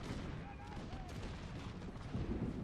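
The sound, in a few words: musket gunfire in battle, from video game Napoleon: Total War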